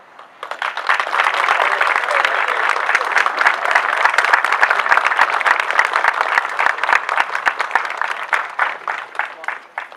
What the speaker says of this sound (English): And let's continue that round of applause for Grace.